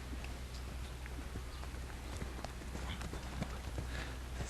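A horse canters during polocrosse training, its hooves landing in a steady, continuous clip-clop rhythm over a rumbling outdoor background, at moderate distance with no talking.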